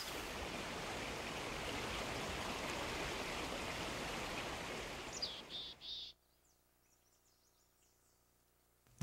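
A mountain waterfall fed by melting snow and ice pours in a steady, broad rush of water. It fades out after about six seconds, leaving near silence with a few faint chirps.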